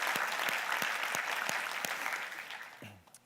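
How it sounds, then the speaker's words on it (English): A conference audience at a human resources event applauds the volunteers, a dense wash of clapping from many hands that holds steady and then thins and fades out near the end. "So can we get a round of applause for the volunteers today?"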